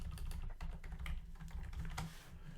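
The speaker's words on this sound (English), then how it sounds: "So I'll type in VLOOKUP" Quick clicking keystrokes on a computer keyboard while entering a spreadsheet formula, a steady close patter of light taps with a few sharper presses, no voices.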